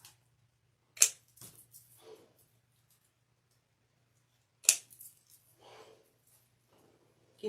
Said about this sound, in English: those little tails from row 2 that we just did, you can go around and trim those off